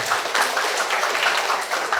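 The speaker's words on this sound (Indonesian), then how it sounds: "Tepuk tangan dulu buat Anda." Audience clapping in a work-motivation seminar hall, a dense even patter of many hands sustained throughout at moderate loudness.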